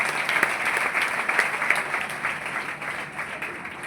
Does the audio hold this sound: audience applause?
yes